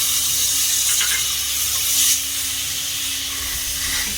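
Ground masala paste for vegetable khurma sizzles and hisses steadily in a hot pan while being stirred, a close, continuous frying crackle with no voices.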